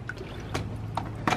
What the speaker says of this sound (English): Splash, splash, splash, splash,